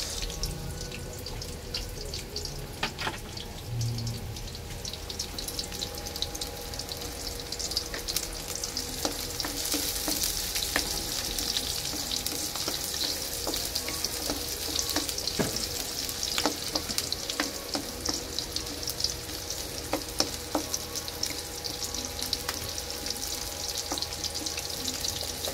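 Onions sauté in a pan with a steady, fairly quiet sizzle, along with occasional stirring scrapes and faint running-water sounds in the background.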